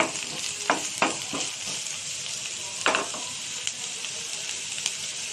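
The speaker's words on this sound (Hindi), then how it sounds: "तेल पके प्याज पके देली ताकू टिके फ्राई करिया देबा" Onions frying in oil for a sandwich filling, a bright continuous sizzle with a few sharp stirring knocks and scrapes, close by and without speech.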